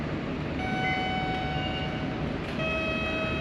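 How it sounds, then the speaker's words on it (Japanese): A train rumbles steadily at JR Musashino Line Shin-Akitsu station, with a loud broad roar and whining tonal hum from the passing cars and nobody speaking. "やってきたのが JR 武蔵野線新秋津駅になります。"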